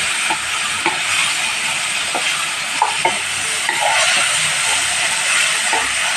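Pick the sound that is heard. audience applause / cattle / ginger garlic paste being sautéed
ginger garlic paste being sautéed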